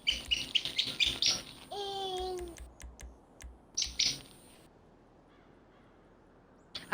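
A squeaker dog toy is squeezed, giving a quick string of chirpy squeaks and then one longer, drawn-out squeal that sounds almost birdlike. Soft taps follow before it falls quiet.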